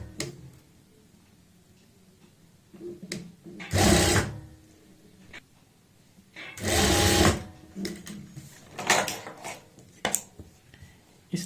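A sewing machine stitches a border strip onto a neckline, in two loud, rapid whirring runs with quieter handling and brief stitch bursts between them, close up.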